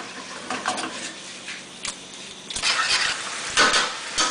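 Puttanesca sauce simmers in a pan with soft bubbling and sizzling, and a few stirring scrapes come and go over several seconds, close and moderately quiet.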